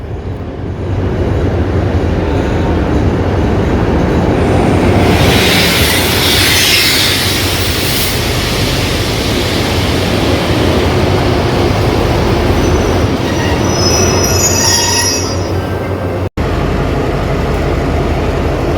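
A Thai passenger train at Udon Thani station in northern Isaan, bound for Nong Khai, gives a loud continuous rolling rumble with bursts of high-pitched wheel squeal, heard close up from on board.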